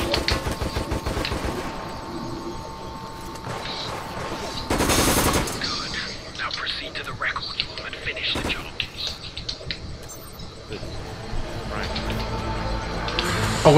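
Rapid automatic gunfire rattles in the Resident Evil: Operation Raccoon City video game, coming in bursts amid game effects, with a player talking over the action.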